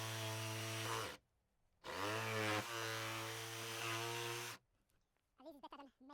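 A power saw trims pallet wood for a rabbit hutch, its loud, steady motor whine running in two long cuts with a short pause between them, followed by someone talking briefly once it stops.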